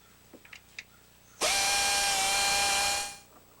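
Bolts coming off a transmission secondary valve body with a power tool: one sustained, steady whir of about a second and a half, close and loud, with a few faint clicks just before and no talk.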